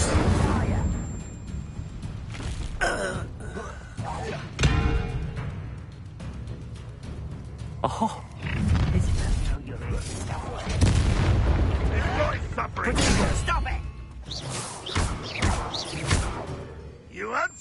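In a Harry Potter video game, the Incendio fire spell is cast amid repeated booming blasts, whooshes and thuds, loud and close, with spoken voices between the impacts.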